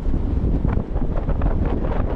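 Steady wind gusting and buffeting the microphone, a constant low rumble with no voices.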